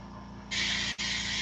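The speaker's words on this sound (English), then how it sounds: "I'm only spraying like right onto the dot that I'm doing one dot at a time" Airbrush spraying paint onto a pike jerkbait lure, a steady hiss that swells louder halfway through, briefly cuts out, then resumes over a constant low compressor hum.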